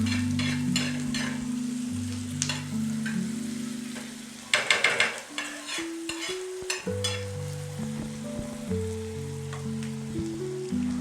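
Chopped onion and tomato with salt frying in a pan for butter pav bhaji, a steady close sizzle broken by clattering stirs, with soft tonal music underneath.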